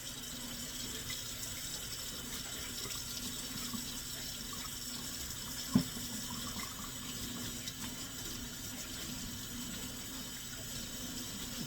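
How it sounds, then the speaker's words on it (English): Tap water runs steadily into a kitchen sink while hands are washed, a constant soft hiss and splash with one brief knock partway through, no talking. "let me wash my hands"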